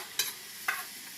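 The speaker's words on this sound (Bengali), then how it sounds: "ফোড়নে এবার পেঁয়াজ, আদা, রসুন, তিলের যে লঙ্কার পেস্টটা করে রেখেছিলাম ওইটা ঢেলে দিলাম" An onion, ginger, garlic, sesame and chilli paste goes into a hot tempering for fish rezala, giving two short stirring scrapes over a quiet background sizzle.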